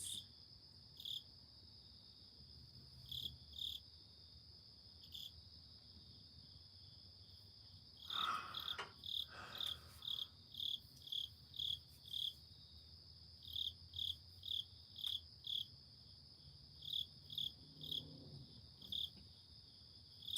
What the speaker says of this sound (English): Oh, there go the crickets.